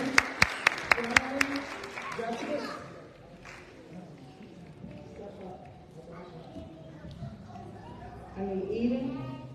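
Members of a church congregation clap together at an Easter service, a brief burst of crisp hand claps at the start that fades into room murmur, shuffling footsteps and voices as people move about.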